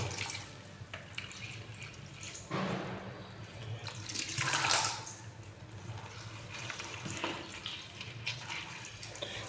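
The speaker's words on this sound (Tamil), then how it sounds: "தண்ணி ஊற்றுறோம்" Water poured into a container of milkweed leaves while mixing a boron-rich leaf solution, a soft continuous splashing stream that swells in the middle and then settles, fairly quiet and with no voices.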